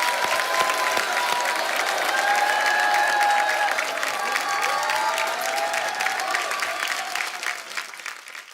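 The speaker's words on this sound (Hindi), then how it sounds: "जोरदार तालियां हो जाए" Studio audience applauding at a comedy talk show taping, a steady, dense wash of clapping that holds for the full stretch with a few faint tonal notes of music underneath.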